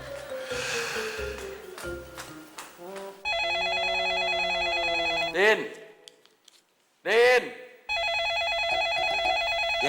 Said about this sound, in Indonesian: Ada telepon tuh.